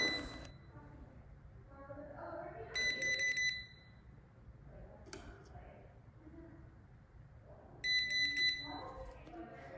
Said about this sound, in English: It will beep at you and it will show a red light.